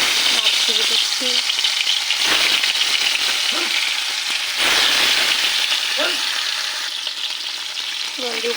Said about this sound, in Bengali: সাদা তেল দিয়ে দিলাম, তেল গরম হয়ে গেছে বন্ধু। মাছ ভেজে দিচ্ছি।